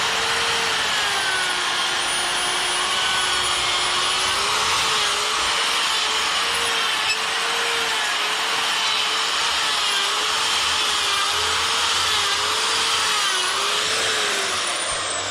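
Rotary tool with a flame burr carving an eyebrow into a chainsaw-carved wooden bear, a steady high motor whine with wavering pitch as the bit grinds against the wood, continuous and close.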